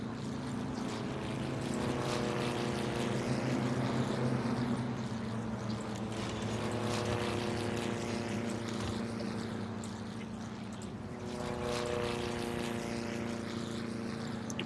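Propeller airplanes drone overhead in a SimCity city near an amusement park, a loud, sustained engine hum with a rising and falling pitch that swells, fades slightly, then returns, with no voices.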